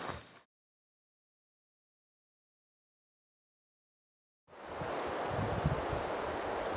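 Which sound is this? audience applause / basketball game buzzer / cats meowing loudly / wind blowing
wind blowing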